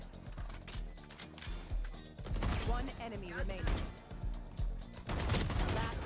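Rapid gunfire from a tactical shooter video game rattles in quick bursts alongside music and game effects, fairly faint overall and in steady clusters through the clip.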